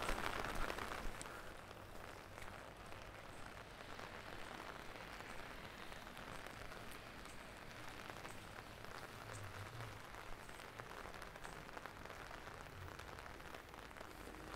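Rain falls steadily on a street in Kirkenes, Norway, during a walk: a faint, even hiss of drops on the surface with no speech.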